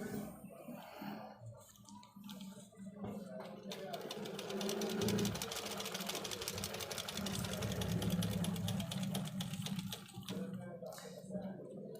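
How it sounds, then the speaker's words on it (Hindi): A sewing machine set up for jersey fabric runs in a steady, fast stitching whir that builds and holds for several seconds before easing off, close by, with faint rattles from the mechanism. "अब सिलाई इसकी जो है ना लगा के चेक करते हैं"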